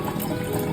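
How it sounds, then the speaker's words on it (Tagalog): Cold water runs steadily from a kitchen tap, a continuous close splashing stream with no talking. "ito, yung tap water"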